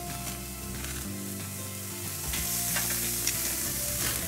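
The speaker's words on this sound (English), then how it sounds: "You want to hear that sizzle." Steaks sizzle and fry on a very hot barbecue grill, a loud continuous crackling hiss that swells slightly partway through, heard close up with no talking.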